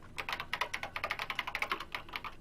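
Keyboard typing sound effect from the video game Danganronpa: a rapid, steady run of crisp key clicks, close and alone, with no talk.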